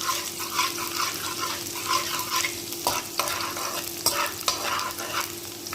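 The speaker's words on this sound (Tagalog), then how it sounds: "Ayan, lutuin lang natin yung bawang guys ha." Garlic sizzles in a pan while a utensil stirs and scrapes through it. A loud, close crackling hiss runs throughout, with rhythmic swishes and a few sharp knocks against the pan.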